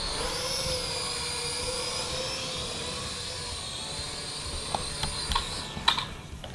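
A Helicute H820HW quadcopter drone hovers with a steady, high-pitched whir of its small rotors, then a few light knocks and bumps come near the end as it comes down to land.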